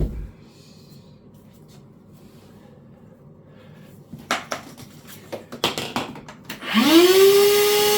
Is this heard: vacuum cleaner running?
yes